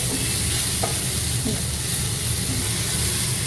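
Cashew nuts sizzle in a hot pan, with steady frying crackle and hiss filling the whole clip, close up and continuous.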